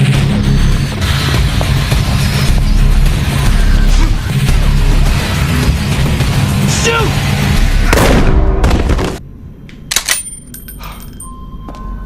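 Film gunfire rings out as Jigsaw flees the shooter: dense, loud bursts of shots and booms pound for about eight seconds, then cut off abruptly, with a couple of sharp, fainter reports afterward.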